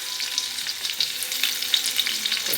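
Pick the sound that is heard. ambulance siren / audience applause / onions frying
onions frying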